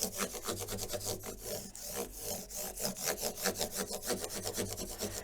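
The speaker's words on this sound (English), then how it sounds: "There's about 6 of these, and you just rub them just like sandpaper." Micro polishing pads rub back and forth on the wooden neck of a 1976 Martin D-28 guitar, giving a close, steady, rhythmic scratchy swishing with no talk.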